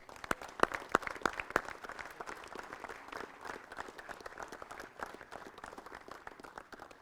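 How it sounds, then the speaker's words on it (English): A modest crowd at a basketball celebration day in West Hartford gives a round of applause, starting with a few sharp near claps before settling into quieter, scattered clapping that fades over several seconds. "I just want to say a big round of applause to the neighborhood."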